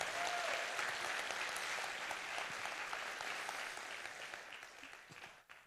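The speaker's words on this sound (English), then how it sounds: "please give them a huge round of applause" Audience applause at a 2019 hackathon, a dense, sustained wash of many hands clapping that holds steady for several seconds, then thins and fades near the end.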